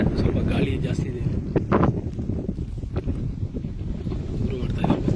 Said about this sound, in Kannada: ಸ್ವಲ್ಪ ಗಾಳಿ ಜಾಸ್ತಿ ಇದೆ.